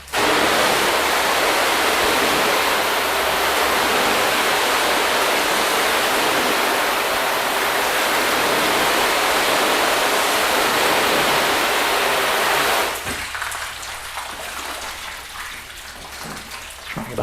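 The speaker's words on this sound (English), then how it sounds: "Try a different pattern with the hose as well." A garden hose sprays water over a car during a first wash test of Gyeon Can Coat, Meguiars Hybrid Coating and Carpro coatings, a loud steady broadband hiss for about thirteen seconds that then cuts to softer splashing and dripping.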